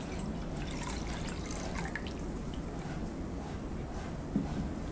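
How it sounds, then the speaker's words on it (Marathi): Water and milk pour steadily into a pot while making mango shira, a continuous close trickling wash with no pauses. "1 वाटीभर पाणी घेतलंय आणि 1 वाटीभर मी यामध्ये घालणार आहे दूध"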